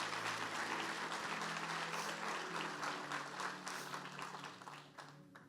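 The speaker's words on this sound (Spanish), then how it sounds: "Dale un aplauso al Señor porque son verdades relevantes." A church congregation applauds at a Spanish-language service, dense sustained clapping from many hands that fills the room and slowly fades over about five seconds.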